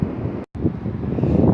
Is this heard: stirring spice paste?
no